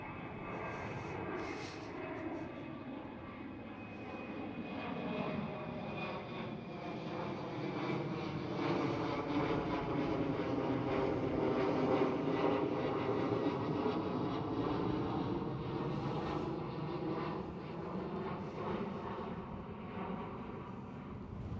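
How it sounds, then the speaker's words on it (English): A KLM Cityhopper Embraer E190 jet passes at Amsterdam Schiphol airport, its engine roar swelling to a peak midway and then easing off, fairly distant and steady with no voices. "KLM Cityhopper E190."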